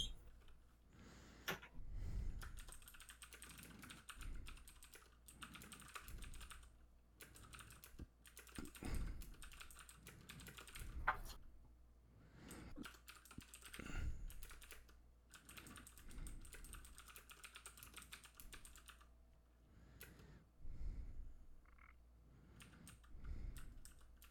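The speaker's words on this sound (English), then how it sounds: "I hear someone typing." Steady clatter of typing on a computer keyboard, keys tapping in quick irregular bursts at close range with a low background hum.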